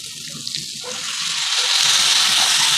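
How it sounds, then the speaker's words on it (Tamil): Water pours into a hot pan of Kerala-style black-eyed peas stir-fry, starting as a faint trickle and swelling into a steady, close rushing hiss with a light sizzle underneath. No one speaks. "கொஞ்சம் தண்ணி ஊற்றுறதுனா ஊற்றலாம்"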